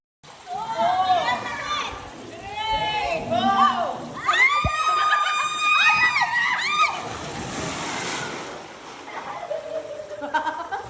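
People scream and shout together while riding down a water slide at a resort at night, with high, wavering cries in bursts, then crowd chatter and laughter as the screams die down.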